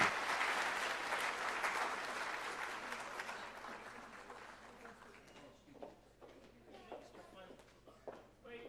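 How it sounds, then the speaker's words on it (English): Audience applause at a political debate for Utah state school board and senate candidates, loud and dense at first, then thinning into scattered claps and fading as a voice begins speaking. "let's give them one final applause"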